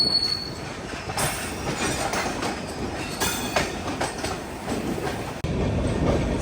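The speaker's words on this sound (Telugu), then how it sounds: "ఒక గూడ్స్ ట్రైన్ బొగ్గులోడ్ వేసుకుంటూ వెళ్ళిపోతుంది" A goods train loaded with coal rolls past heading into Vizianagaram station, loud steady rumble of wagons with rhythmic wheel clacks and repeated metallic squeals, a brief break near the end before the rolling resumes.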